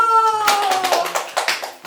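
A primary school class claps hands in a quick, uneven patter in a classroom, following a lingering tone, with a few sharp taps near the end.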